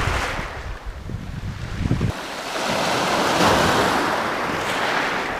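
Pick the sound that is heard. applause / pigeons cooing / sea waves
sea waves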